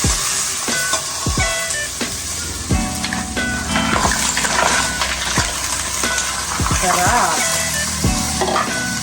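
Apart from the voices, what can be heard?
mussels (tahong) being sautéed in a hot pan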